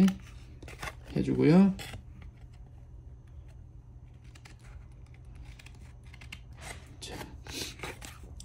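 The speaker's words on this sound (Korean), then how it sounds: "이 안쪽도 가위 안쪽을 이용해 가지고 조금씩 잘라서" Scissors make small, crisp snips as they trim a replacement mica sheet for a microwave oven, cutting bit by bit with the inner part of the blades; a person talks over the quiet cutting.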